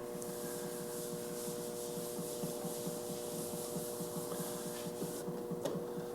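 Paste wax rubbed by hand onto a wood finish, a steady quick scrubbing rhythm that is faint and close, continuing for about six seconds with no voices.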